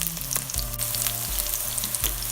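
Homemade chicken sausage rolls fry in hot oil, giving a steady, close sizzle and crackle that runs without a break, with a few stirring clinks and small pops over it.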